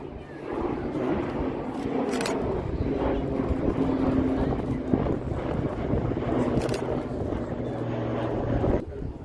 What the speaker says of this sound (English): So the A380, the largest passenger plane in the world.